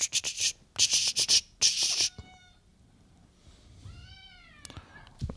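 A house cat gives a clear rising-and-falling meow, with a brief chirp before it, following loud bursts of rustling noise at the start.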